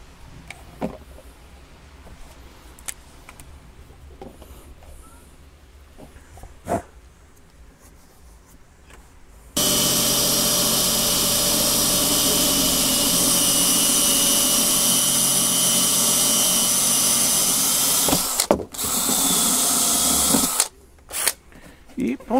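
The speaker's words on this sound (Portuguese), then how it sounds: "eu já vou fazendo o furo na outra caixa" A drill boring a hole through a plastic box for a septic biodigester build, running loud and steady for about ten seconds with a brief pause, after quieter handling noises.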